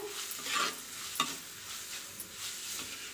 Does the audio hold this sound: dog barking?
no